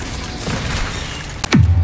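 A Bombarda spell explodes in Hogwarts Legacy, a sudden loud boom with a falling rumble that follows a stretch of quieter game sounds.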